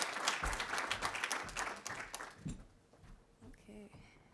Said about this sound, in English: give a round of applause to all these students